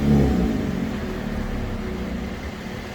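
A Jeep Gladiator with an aftermarket exhaust revs against its rev limiter at about 2,500 RPM, a low continuous drone that holds near one pitch without climbing, close and fairly loud throughout.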